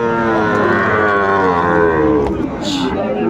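Sahiwal cattle at the Aftabganj market low in a loud, sustained moo that fills most of the stretch, close by, with a brief sharp noise near the end.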